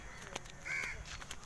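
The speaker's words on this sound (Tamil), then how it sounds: "பாருங்கள் எத்தனை காக்கா பறக்குது" Crows caw from a tree, a few harsh calls spaced across the moment, fairly faint with a drawn-out caw in the middle against light outdoor background.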